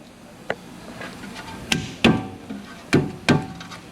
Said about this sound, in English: you can love tap it with the hammer